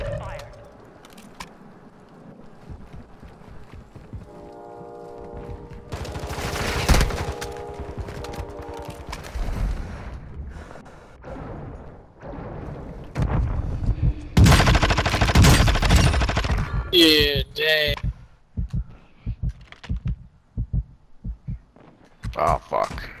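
Rapid video game gunfire, with bursts of shots and clattering volleys building to a dense loud stretch in the middle, then scattered single shots and game effects toward the end.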